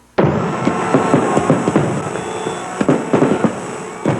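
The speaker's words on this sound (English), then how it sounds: "Fireworks will soon be filling the evening skies of the Upper Peninsula" Fireworks burst over the Upper Peninsula of Michigan in a steady crackling barrage, with sharp loud pops and booms at irregular intervals and no voices.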